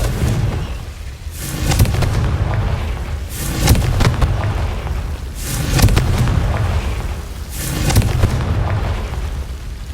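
Repeated Confringo blasting-spell explosions in Hogwarts Legacy, four heavy booming bursts spaced about two seconds apart, each with a crackling tail fading into the next.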